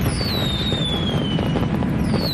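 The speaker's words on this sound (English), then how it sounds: "some of the fireworks that give off colors on the 4th of July are called aerial bombs" A Fourth of July aerial bomb firework with a whistling tone that slowly falls in pitch over a loud, continuous crackling rumble, with no talking.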